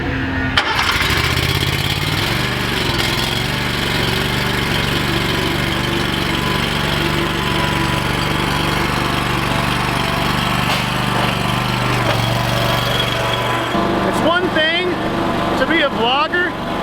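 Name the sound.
Gravely lawn mower engine starting and running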